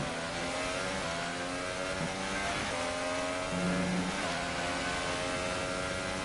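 A Formula 1 car engine in the F1 2018 video game whines steadily in a wet race, its pitch rising and dipping with brief gear shifts, loud and continuous with no speech.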